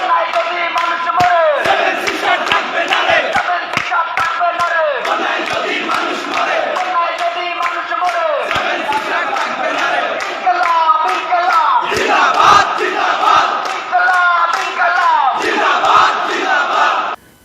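A large crowd at Dhaka University chants political slogans in rhythmic unison, loud and continuous with repeated call-and-response phrasing and occasional thumps.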